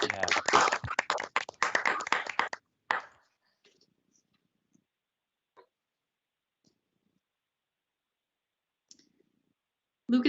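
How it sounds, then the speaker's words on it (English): Audience applause for a presenter at an honors thesis symposium, a burst of clapping about two and a half seconds long that stops abruptly, followed by near silence with a few faint stray clicks. "Let's give her a round of applause"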